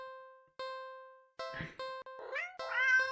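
A cat meows repeatedly in a video game, with several short, tonal cries over a steady synthesized music drone, clear and close.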